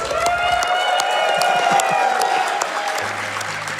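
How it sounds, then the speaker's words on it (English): An audience at a Games Done Quick speedrun event applauds and cheers steadily throughout, loud and close, with a few whoops mixed into the clapping. "Give yourselves a round of applause for your bravery."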